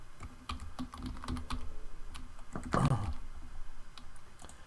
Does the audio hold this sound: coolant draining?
no